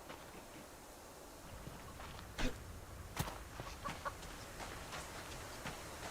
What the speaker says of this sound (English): Oh, a chicken.